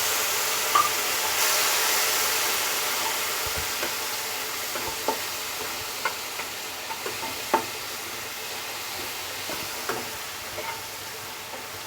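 Spice paste mixed with water sizzles steadily in a frying pan after the tempering spices have fried, a continuous bright hiss with occasional small pops and stirring clicks, close and unvoiced throughout.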